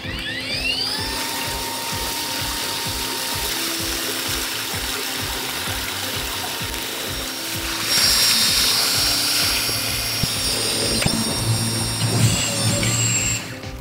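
A Makita 18V pump drawing water out of a 100-liter tank gives a steady, close motor whine with a rattling hum. Partway through, the pitch and loudness jump as the intake starts to gurgle and slurp.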